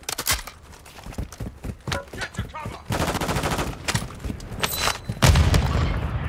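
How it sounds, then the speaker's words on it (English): Bursts of rapid gunfire ring out in a Call of Duty: DMZ match, sharp repeated shots and blasts close by, sustained through the clip with a heavier burst near the end. "Taking fire over here!"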